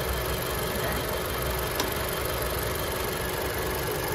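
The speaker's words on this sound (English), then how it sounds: "Alright, so now the AC is on, therefore the engine's on." A 10th-generation Honda Civic (2016-2021) idles with the air conditioning running, a steady low engine hum with faint vibration, fairly quiet and continuous with no talk.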